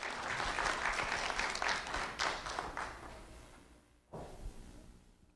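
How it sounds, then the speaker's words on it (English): Applause at a student recognition event, a crowd clapping loudly at first, then fading down before a short fresh burst of claps near the end. "Round of applause for Kaylani Rios"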